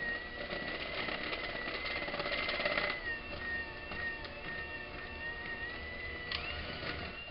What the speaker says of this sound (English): The mixer is very helpful.